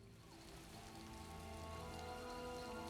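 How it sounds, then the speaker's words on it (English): Rain pours steadily in the video game Elder Scrolls Online, a soft continuous patter that swells slightly, with faint tonal music underneath. "I could do without this damnable rain. It's been storming since we arrived"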